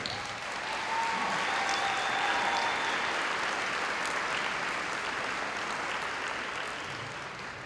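An audience at a school district opening gathering gives sustained applause as staff from Alta Vista campus stand, a thick, even wash of clapping from many people that holds steady and tapers slightly at the end.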